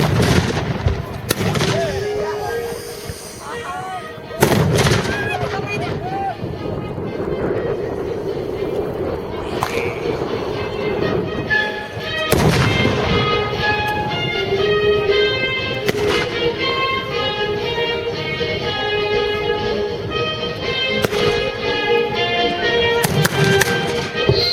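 Spanish and Portuguese artillery fire in skirmishes with infantry at a Battle of Arroyomolinos reenactment, with several loud, sharp booms spaced seconds apart over a continuous outdoor crowd din and nearby voices.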